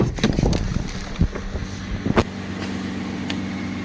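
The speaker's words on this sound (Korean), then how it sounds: "지금 엔진은 아까 한 대략 7, 8분 전에 걸어놓은 상태 그대로 엔진이 회전, 공회전하고 있습니다." A Hyundai Grandeur HG running on LPG idles steadily after several minutes of running, a low, even engine hum close by, with a few brief thumps early on.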